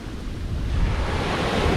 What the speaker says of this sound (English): But the waves are still big.